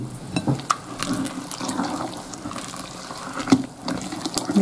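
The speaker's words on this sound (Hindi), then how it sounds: "थोड़ा सा पानी ऐड कर देंगे।" Water is poured into a vegetable and rice pancake batter, a close splashing, running pour with a few clinks from the bowl, alone without talk.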